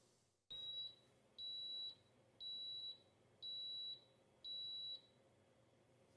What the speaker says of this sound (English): it will actually beep 3 times to let us know that the waffle's ready to remove